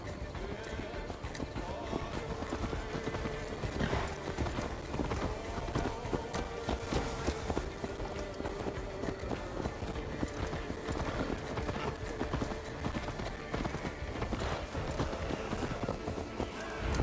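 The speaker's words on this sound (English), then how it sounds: "Let's return the horse." Horse hooves clip-clop steadily in Assassin's Creed Valhalla, a continuous rhythmic trot layered under dense game music and ambience, with occasional voices through the seventeen seconds.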